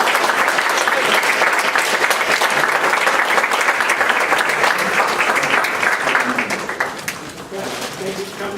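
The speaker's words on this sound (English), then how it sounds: "Let's give a big round of applause." A large audience at a talk on human rights in North Korea breaks into loud, dense, sustained applause that thins out toward the end, with a voice coming in over the tail.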